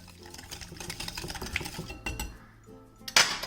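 A whisk stirs batter around a bowl, giving a busy run of metallic clinks and scraping against the sides, fairly close, with one sharper clatter near the end.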